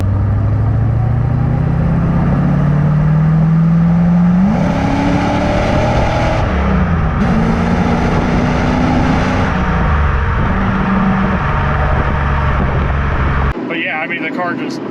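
A 1985 Chevrolet Corvette Z51 engine revs up through the gears, pitch climbing then dropping at shifts, loud and close from inside the car, cutting off abruptly near the end.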